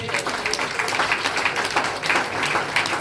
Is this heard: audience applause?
yes